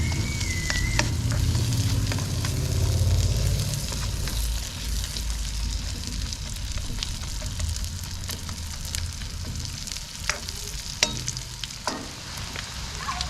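Sliced onions fry in a hot pan with a steady, dense sizzle and crackle that continues throughout, with occasional scraping stirs and no talking.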